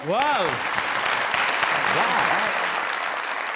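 Studio audience on a Pakistani comedy talk show breaks into brisk, close applause. A brief voiced exclamation rings out at the start, and the clapping continues evenly to the end.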